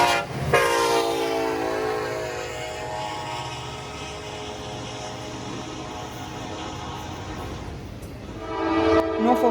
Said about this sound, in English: This line sees many domestic intermodal trains a day like this one.